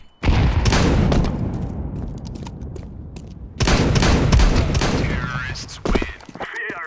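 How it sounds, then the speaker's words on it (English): In a Counter-Strike match on Vertigo, a grenade blast and rattling gunfire come in two long loud bursts, the second starting a few seconds after the first and fading into game noises. "I'm throwing a grenade."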